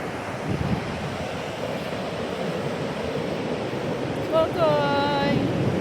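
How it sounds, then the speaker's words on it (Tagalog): Ocean waves and wind on a cold beach shore: a continuous broad rushing wash fills the whole stretch, with a brief high, wavering tonal call rising above it near the end. "Tabing dagat."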